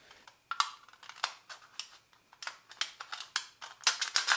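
Scissors or snips cutting up the middle of an aluminium beer can, a run of sharp clipped snips and crinkles, close and fairly quiet, with short pauses between cuts.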